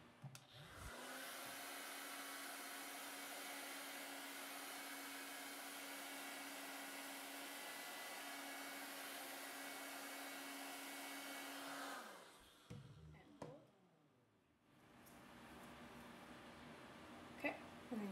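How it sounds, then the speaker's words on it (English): A handheld hair dryer blows steadily and loudly for about twelve seconds while bangs are blow-dried from underneath, then cuts off, followed by brief handling noises and a softer resumed airflow. "we are going to go over and blow dry under."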